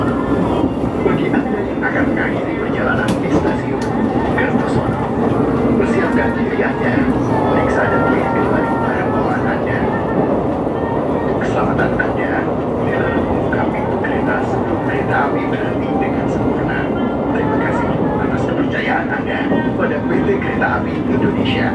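Heard from aboard, the Gajayana passenger train runs steadily along the rails with a continuous loud rumble and recurring clicks, while a voice talks over it.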